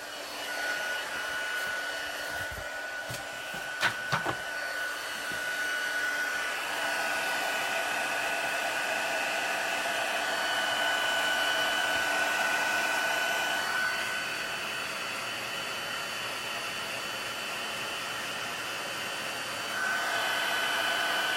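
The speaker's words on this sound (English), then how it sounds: "I'm going to get my heat tool out, and it's a little bit noisy." A craft heat tool used for embossing blows a steady, loud whooshing hiss for about twenty seconds, close to the mic, with a few small clicks near the start.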